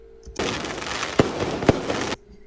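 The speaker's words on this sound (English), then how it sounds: "The fireworks before the show were really cool" Fireworks at the Fallas festival in Valencia burst in a dense crackling barrage lasting nearly two seconds, with two sharp loud bangs standing out, then cutting off to quiet.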